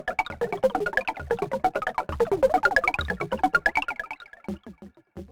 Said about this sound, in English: And here we have the plucky main motif.